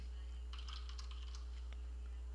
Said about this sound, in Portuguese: aqui eu vou digitar alguma coisa e vou ver se ele vai funcionar